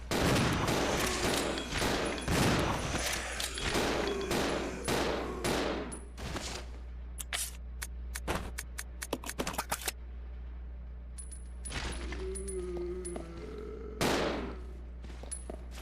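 Rapid bursts of gunfire from the Resident Evil 0 video game, dense volleys and single shots cracking close and loud for about ten seconds, then a few scattered shots against quieter game ambience and a low steady hum.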